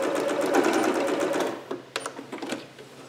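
A sewing machine stitches a seam on a Vogue 8280 garment in a loud close burst that slows and stops halfway, followed by a few light clicks and handling taps.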